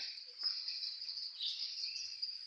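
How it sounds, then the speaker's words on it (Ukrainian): A flock of starlings calling outdoors in autumn makes a continuous high chattering and whistling chorus at moderate distance, steady throughout with no talk. "Ось, це прилетіли шпаки."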